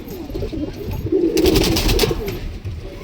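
Pigeons of a bred top-quality line cooing close by, a soft throaty rolling coo swelling in the middle and fading again, with no talk over it.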